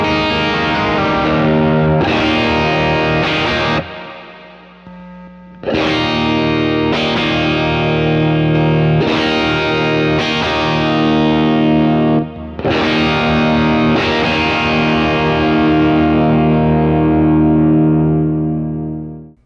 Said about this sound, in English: For when I want to get a little bit more overdriven, I'll use the Benson preamp next.